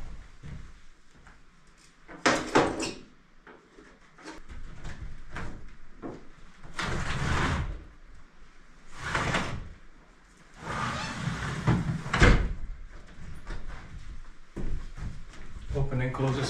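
A used window in an off-grid cabin, dirty with old debris in its track, slides open and closed several times in short scraping bursts, with people talking in between.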